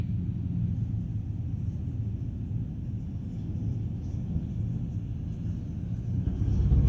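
Steady, droning engine rumble of a C42 light aeroplane in flight on approach with flaps down against a headwind, continuous and even throughout.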